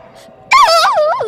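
A dog in the Roblox horror game Trespass gives one loud, close whimpering yelp that bends up and down in pitch, short and sharp after a faint hum.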